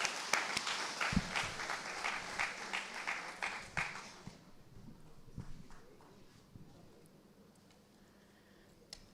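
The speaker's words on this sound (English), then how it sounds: "Give yourselves a round of applause." Women in the audience at an International Women's Day celebration applaud in a burst of sharp, scattered claps for about four seconds, then it thins to a few faint, isolated claps in a quiet room.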